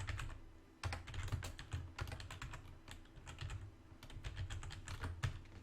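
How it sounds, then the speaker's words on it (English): Steady typing on a computer keyboard, dense bursts of close clicking keystrokes with short pauses between runs, quiet and unaccompanied by voices. "I know what I'm going to type."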